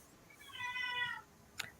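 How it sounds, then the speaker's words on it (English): A pet cat meows once in a drawn-out, slightly rising call close to the microphone, followed by a brief sharp click; no one speaks. "that's my cat"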